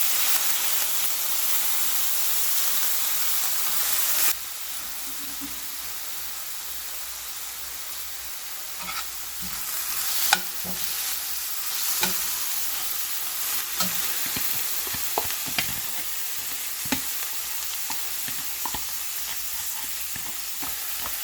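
Soaked moong dal cooks in a pan with a continuous loud sizzle and hiss, while a spoon scrapes and taps the pan in scattered strokes, close by and without talk.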